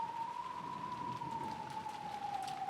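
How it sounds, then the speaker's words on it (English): Steady rain ambience from a video game, a dense even hiss of falling drops holding at constant loudness throughout, with a sustained tone running through it. "I cut the audio out for the sound effects for the rain"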